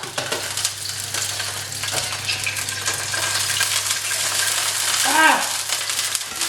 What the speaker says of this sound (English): let's crack the egg in